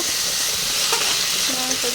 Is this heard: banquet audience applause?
no